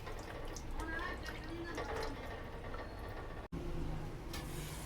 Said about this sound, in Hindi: 1 कप इसके अंदर हम पानी डाल देंगे और इसको पकने के लिए हम छोड़ देंगे कवर लगा के